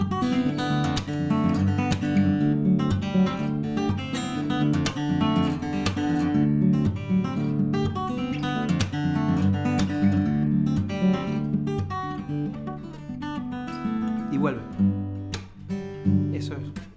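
An instrumental guitar bridge in D Mixolydian from a song, strummed steadily and continuously at moderate volume, fading slightly near the end.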